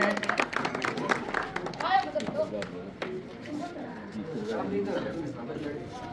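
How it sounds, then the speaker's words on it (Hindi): An audience at a village gathering in Singpura claps to welcome a team onto the stage; the applause is brisk at first, then fades under a speaker's amplified voice. "संपूर्ण टीम एक बार यहाँ मंच की तरफ आ जाइए और जोरदार तालियों से इनका हार्दिक स्वागत है, अभिनंदन है।"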